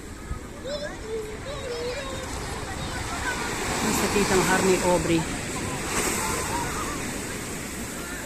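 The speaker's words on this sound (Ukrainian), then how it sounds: "хвиля досягає аж поза мене ще на метр" Ocean waves roll up the shore at Puerto de Santiago, Tenerife, a steady broad wash of surf swelling midway, with someone speaking over it close by and gusts of wind.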